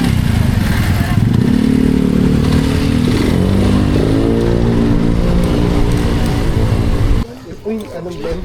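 A manual motorcycle engine revs up repeatedly, its pitch climbing and falling in loud, close surges over background noise, then it drops away near the end.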